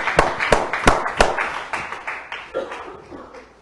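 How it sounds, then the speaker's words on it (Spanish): A church congregation claps in praise during a Spanish-language service, with a steady run of sharp, close hand claps that gradually soften, alone without speech. "Aplauda al rey."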